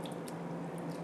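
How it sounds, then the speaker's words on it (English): A wet pineapple and sugar mixture is spread over a cake with soft, squishy, dripping sounds, quiet and continuous over a steady low hum, with no voices. "I'm going to take this mixture of pineapple and sugar and I'm just going to layer this all over my cake"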